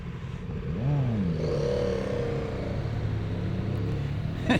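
A motorcycle passes on an Isle of Wight road, its engine rising and falling in pitch as it goes by close, heard over the steady engine drone of a BMW R1200RT touring bike.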